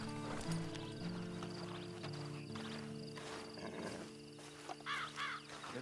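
Horse hooves clip-clop in Red Dead Redemption 2, a steady rhythmic trot close by, with a whinny and low background drones, occasional voices, and chirpy game ambience near the end.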